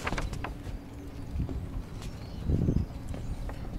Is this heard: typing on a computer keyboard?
no